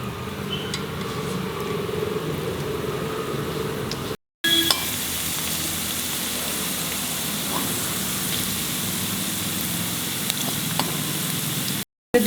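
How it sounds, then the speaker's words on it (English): Ginger julienne frying in a pan for a chicken curry, giving a steady, moderately loud sizzle and crackle throughout with occasional light stirring scrapes and two brief dropouts, no talking. "Fry the ginger julienne."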